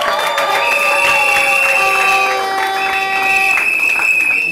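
A crowd at a wedding cheering and applauding after the father signs, with ululating, high whoops and clapping under it, lively and sustained for several seconds.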